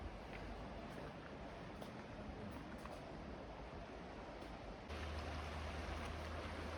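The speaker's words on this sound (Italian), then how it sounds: "Guardate il fiume immissario, ragazzi, che spettacolo." Steady broadband rushing of an inflowing river at Lake Barcis, continuous and fairly loud, with a low rumble that thickens toward the end; no voices.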